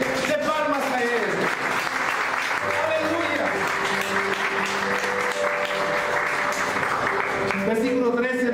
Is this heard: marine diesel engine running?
no